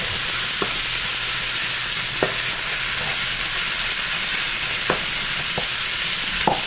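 Ground beef browning in a lightly oiled pan for chili, giving a steady broadband sizzle throughout, with a few sharp clicks of stirring scattered across it and no talking.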